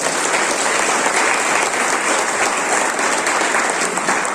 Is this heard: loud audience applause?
yes